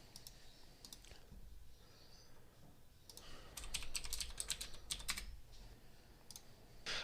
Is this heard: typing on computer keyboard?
yes